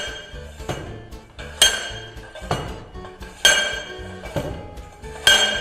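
Rammer blows compacting soil during a Proctor test, sharp metallic impacts repeating in a steady rhythm about once every second, each with a brief ringing decay, close and alone.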